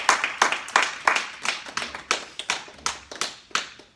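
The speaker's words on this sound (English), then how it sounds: "Can we celebrate each other with a big clap?" A group at a workshop claps hands in unison, about a dozen sharp, evenly spaced claps in a steady rhythm, close and fairly loud, with no talk over them.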